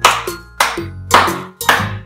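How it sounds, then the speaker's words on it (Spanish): Four loud, close hand claps come at a steady even rhythm, with a faint musical tone ringing underneath during a children's Spanish lesson. "Puedo aplaudir."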